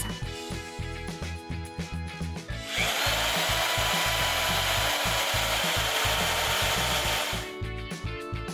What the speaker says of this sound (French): Visse chaque morceau de polystyrène dans le bois à chaque coin.